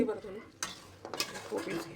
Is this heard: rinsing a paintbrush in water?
no